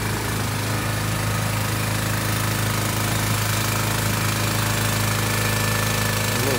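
A Briggs small engine drives the hydraulic pump and hydraulic fan on a Pack Rat storage container truck, giving a loud, steady mechanical drone with a rapid rattling pulse that holds unbroken throughout, close by.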